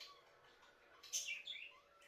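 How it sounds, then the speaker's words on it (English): Birds chirp at night, a few faint, high, quick tweets over a soft hiss of background noise, far off and brief. "The birds, they're going crazy."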